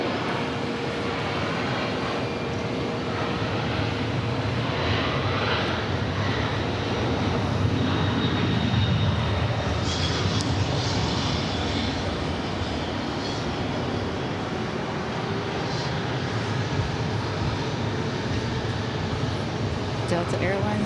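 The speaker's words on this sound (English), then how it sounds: "Delta Airlines 353 heading off to, guess where? LAX. LAX. 767, 300 ER." A Delta Boeing 767-300ER departs JFK with a continuous broadband jet rumble that swells slightly midway, while voices talk over the engine noise throughout.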